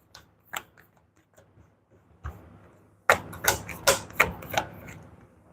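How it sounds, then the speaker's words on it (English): Playing cards from a discard pile shuffled during a tabletop Dune strategy game, giving a run of crisp riffling and tapping bursts that grows louder in the second half, with no voices. "And now I got to shuffle my discard pile."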